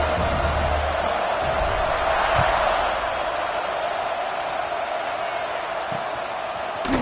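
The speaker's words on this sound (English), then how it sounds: "this crowd is buzzing after that last score" Stadium crowd buzzing in a football video game after a touchdown and PAT in a dynasty-mode game against a rival, a steady dense roar held at a constant level throughout, with a few faint thuds underneath.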